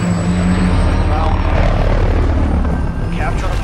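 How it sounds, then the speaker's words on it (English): Helicopter flying in the Call of Duty Modern Warfare ground war mode, a loud steady rotor drone with whirring blades held close throughout, with other game noise underneath. "I think I got a straight shot for the helicopter"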